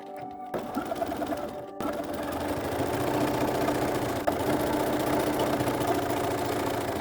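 A sewing machine stitching a skirt seam for a Simplicity S3228 pattern, a steady close whirring hum running continuously after a brief stop and restart near the start.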